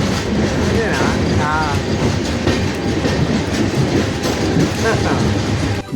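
A loud, steady rumble of a train rolling along the tracks at Kazipet railway junction, with rhythmic wheel clatter and a brief squeal, continuous throughout.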